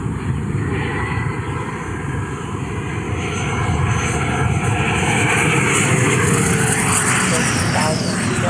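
An EDF Odyssey JETFAN-130 PRO electric ducted-fan model jet, 12 kW on 16S Li-Ion power, flies past with a loud, steady whooshing roar that swells toward the end and never drops out.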